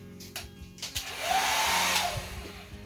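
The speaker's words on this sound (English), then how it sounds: "I'm going to push in just a little with the hairdryer" A hair dryer pushing paint on an acrylic pour painting whooshes steadily for about a second, a loud broadband blowing that swells and fades, with a few small clicks and handling noises around it.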